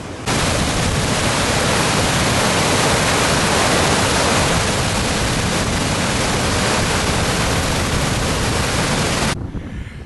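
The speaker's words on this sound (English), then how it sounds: "We'll have a quick look at the top of the weir now" Water pours steadily over a weir on a Peak District river near Ashford in the Water, a loud, continuous broadband rush that fills the whole stretch before cutting off near the end.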